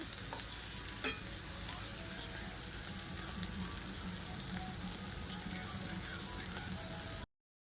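Egg, onion and green chilli scrambling in a hot pan, a faint continuous sizzle with light stirring scrapes and one brief sharp clink near the start.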